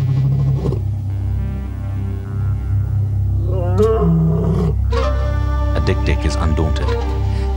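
A lion roars in the wild of Namibia, a deep, loud, sustained rumbling bellow heard up close, layered with lower rumbling and a narrator's voice over a waterhole scene with zebra and wildebeest nearby.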